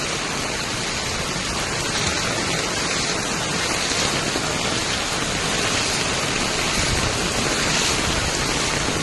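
Heavy rain pours onto a flooded road in Ghatkopar East, Mumbai, a dense, steady hiss filling the whole stretch at constant loudness with no voices.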